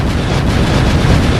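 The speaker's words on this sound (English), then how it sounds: "which means I need to add more explosions" A short, loud, sustained explosion effect in a LEGO video game build: a dense rumbling boom with no distinct onset, filling the whole moment.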